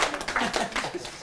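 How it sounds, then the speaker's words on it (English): An audience claps for a guest arriving on a talk show. The applause is a short, close burst of scattered hand claps with a faint voice mixed in. "Cheers, round of applause for Adam Carroll."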